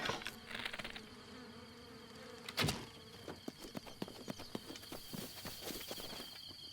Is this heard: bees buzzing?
yes